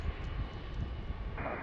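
An airliner arriving to land at DCA (Reagan National) airport, a faint, steady jet engine rumble and hiss heard from a distance, low and even throughout with no talk.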